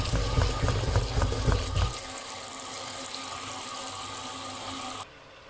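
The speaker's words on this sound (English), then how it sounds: "So I'm just going to wash potatoes." Tap water running in a kitchen sink while potatoes are washed under it, a loud splashing gush for the first two seconds, then a softer steady stream that stops abruptly near the end.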